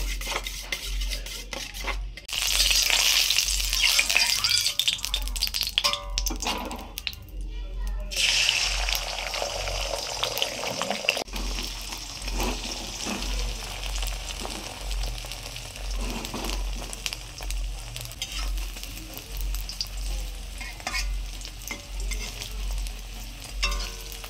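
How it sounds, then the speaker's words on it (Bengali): A raw egg is beaten with the tip of a metal khunti spatula for a village-style Bengali omelette curry, giving a steady, fast scraping and clattering that runs throughout at close range. "আলাদা চামচ নিলাম না, এই খুন্তির মাথা দিয়ে ফেটিয়ে নিচ্ছি ডিমটাকে।"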